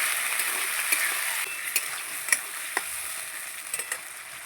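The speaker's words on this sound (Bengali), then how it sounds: "একটু জল দিয়ে দেবো বাটিটা ধুয়ে, একটু নাড়াচাড়া করে নেব" Ginger, cumin, garlic and onion paste sizzles steadily in hot oil in a pan while a spoon stirs it, with a few sharp clicks of utensil on metal over the continuous close frying hiss.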